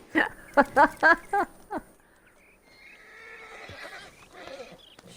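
A horse in Red Dead Redemption 2 Online lets out a loud, close whinny as a rapid series of pulsed neighs, followed by softer breathy snorts and low rustling.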